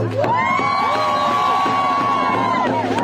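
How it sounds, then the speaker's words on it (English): A large outdoor crowd at a protest rally in Minneapolis cheers and whoops steadily for about three seconds, with high shouts and whistles rising over a continuous dense roar. "Give yourself a round of applause."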